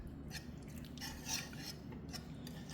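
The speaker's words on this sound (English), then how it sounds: "I'm going to whisk it." Soft, quick scraping and tapping of a whisk against a pan, a few irregular bursts over a low steady background hum.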